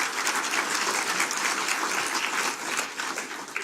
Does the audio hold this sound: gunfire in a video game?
no